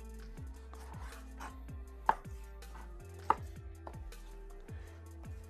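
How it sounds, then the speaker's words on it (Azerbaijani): A knife chops hearts on a cutting board while cooking, a steady series of close, crisp thuds roughly twice a second, with two sharper knocks standing out, and no talking. "Bu cür ürəkləri doğrayırıq."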